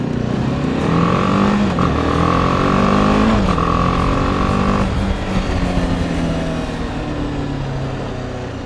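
A BMW G310GS single-cylinder adventure motorcycle accelerates hard along a road, its engine note rising through the gears with short dips at each shift, loud and close throughout.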